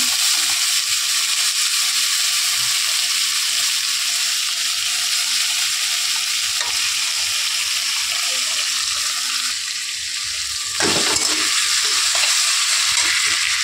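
Frying food in a pan until reddish gives a steady, loud, close sizzle throughout, with a brief clatter of stirring near the end and no voices.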